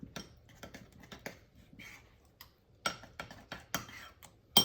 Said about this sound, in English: And I'm gonna give it a stir.